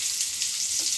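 Eggplant slices frying in hot oil give off a dense, steady sizzle, close and loud, with no voices.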